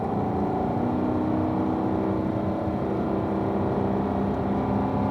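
Race car engine running hard on a track, a loud steady drone that holds throughout, close and constant without clear breaks for gear changes.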